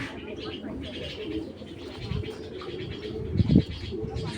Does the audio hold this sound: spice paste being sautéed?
no